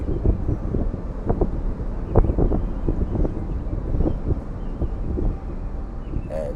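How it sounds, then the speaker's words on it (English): Strong wind buffets the microphone in a constant low roar, with gusty rumbling bursts throughout. "it's pretty windy"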